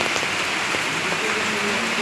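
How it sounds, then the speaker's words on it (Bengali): Heavy rain pours outside in a dense, steady hiss of drops hitting surfaces, loud and continuous for the whole span with no speech. "ধুম বৃষ্টি হচ্ছে, ধুম।"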